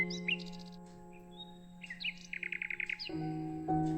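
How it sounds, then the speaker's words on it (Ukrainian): A nightingale sings in bursts: high whistled notes, then a rapid, evenly pulsed series of repeated chirps, clear and fairly close over a low sustained musical backing. "соловей"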